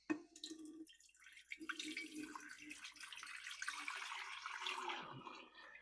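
Tap water poured into a Vevor countertop water distiller, one liter going in as a steady splashing, trickling stream that builds and holds for several seconds, close by with no talking.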